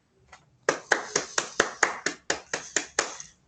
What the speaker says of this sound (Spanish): Un aplauso por la presentación.